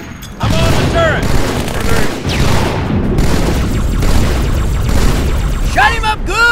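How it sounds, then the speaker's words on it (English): A turret fires in Halo 2, heavy booming bursts pounding continuously at close range while a character's voice shouts over the barrage. "I'm on the turret!"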